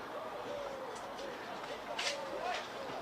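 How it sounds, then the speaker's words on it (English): Wood pigeon cooing at a cricket ground during a county match, its soft repeated calls carrying over steady outdoor ambience while a commentator talks over it. "that extremely loud wood pigeon, which is delivering its thoroughly irritating call across the entire ground at the moment."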